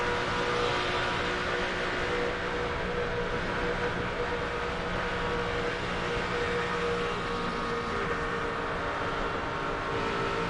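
A pack of NASCAR Cup stock cars racing at speed under green at Daytona in 2006 gives off a loud, dense, unbroken engine roar that holds steady for the whole stretch, with no voices over it.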